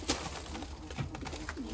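Black white-tailed and red-speckled pigeons of the Mykolaiv breed coo softly in a loft, their low, throaty calls repeating close by over a steady background murmur.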